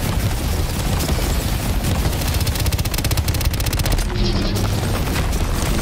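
Dense, loud gunfire in the co-op shooter Shatterline, sustained rapid automatic bursts and heavy booms overlapping throughout, with a brief lull near the end.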